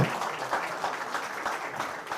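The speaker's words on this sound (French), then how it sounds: "Je crois qu'on peut l'applaudir déjà." Audience applause for a speaker at a French talk on workplace well-being and positive psychology, steady moderate clapping throughout with a faint voice briefly underneath.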